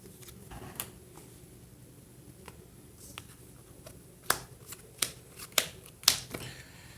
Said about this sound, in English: You shuffle.